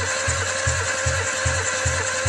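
A Toyota Avanza engine with low compression and a sudden-stalling fault cranks with the throttle held wide open during a compression test, giving a steady, rhythmic chug of low pulses, close and even, under a constant mechanical whir.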